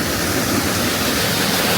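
Fresh water flows at Hardkholi as a dense, continuous rush with a waterfall-like roar, steady and close, with no voices.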